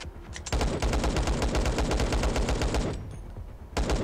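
Rapid automatic gunfire rattles loud and close in the LifeAfter shooter game, a dense burst of shots running for about three seconds, then a short lull before firing resumes.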